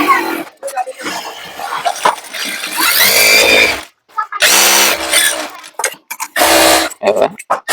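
A sewing machine stitches a full-collar churidar in several bursts of a few seconds each, with short pauses between runs; someone talks in between and over the stitching.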